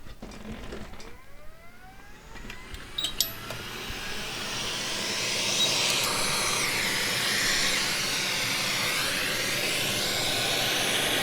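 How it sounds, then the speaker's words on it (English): A heat gun blows on a PlayStation 5 USB port during a repair, a close, steady, airy hiss that swells after a few seconds and then holds at a constant roar. "So coming in with our heat gun, warming the actual port"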